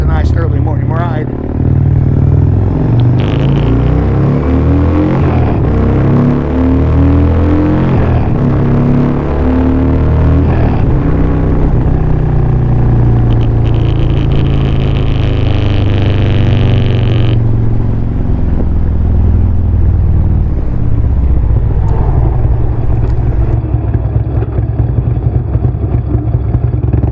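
A motorcycle engine drones loud and steady on an early-morning ride, with shifting pitch and wind rumble, while someone talks over it.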